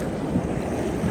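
Cold winter sea surf rolling onto a beach, a steady roar of breaking waves with some wind noise on the microphone, continuous and fairly close.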